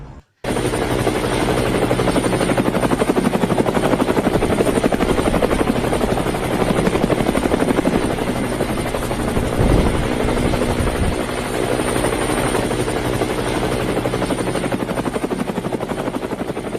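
A helicopter's steady, loud rotor thrum and engine whine run without a break, close by and continuous, with no voices.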